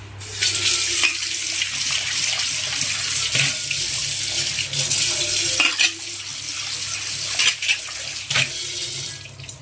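Tap water runs steadily into a sink as a scrubbed plate is rinsed, with a continuous close splashing hiss broken by occasional clinks and knocks of the plate, no talking.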